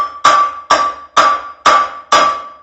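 A hammer strikes a steel car frame during rear half-frame replacement on a 1955 Chevy, five sharp ringing taps at an even pace, close and loud with no talk.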